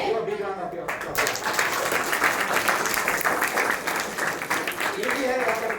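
Sustained applause from a seminar audience, broad and steady for nearly six seconds after a brief quieter lead-in, loud and close throughout.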